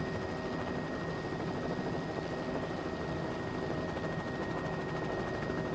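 A helicopter's engine and rotor drone steadily in a flight video game, a loud unbroken whir with a thin high whine running through it and no voices.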